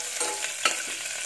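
Washed curry leaves dropped into hot oil give a steady broadband sizzle with a brief louder spurt partway through, close and alone with no voices.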